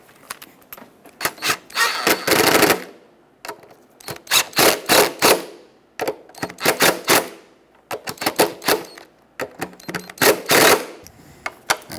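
A power driver runs in repeated bursts, buzzing and ratcheting as coarse-threaded 10mm screws are driven into a plastic intake manifold on a 2008-2010 Ford F250 Super Duty 5.4L V8, with short pauses between each run.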